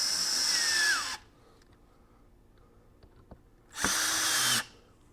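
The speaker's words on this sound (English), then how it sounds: "So let's screw this in." A power drill drives screws into recliner loveseat parts during assembly: two loud, steady whirring bursts of about a second each, separated by a quiet gap with faint clicks of handling.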